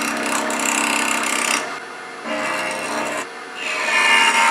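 Woodturning gouge cutting a wooden stick handle on a spinning lathe: a loud, steady raspy scraping that stops and restarts in three bursts, close up with no voices.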